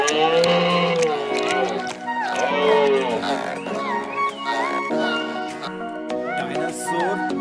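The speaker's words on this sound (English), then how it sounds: "Cow." A cow moos in several drawn-out, wavering tonal calls with rising and falling pitch, loud and close, one after another across several seconds.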